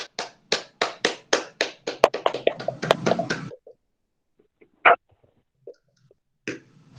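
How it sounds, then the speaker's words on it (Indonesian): Applause in an online class: a series of sharp, evenly spaced hand claps builds into a short burst of overlapping clapping, then stops, leaving a few isolated taps in near silence. "Tepuk tangan untuk kita semua."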